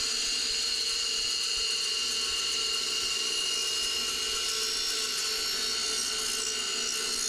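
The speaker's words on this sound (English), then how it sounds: "This is a Scotch-Brite wheel." A Scotch-Brite wheel deburring an aircraft nose rib gives a loud, continuous high-pitched whine that holds steady throughout, close up and with nobody speaking.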